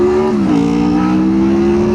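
A car moves around a roundabout with a loud, steady engine drone whose pitch dips once early on and then holds even and constant, with no voices over it.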